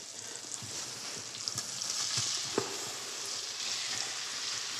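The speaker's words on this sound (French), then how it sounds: "Il faut que ça grésille un peu, on dit il faut que le beurre chante." Meat sears in sizzling butter and oil in a sauté pan, giving a steady close crackle with small pops and bursts throughout and no voices over it.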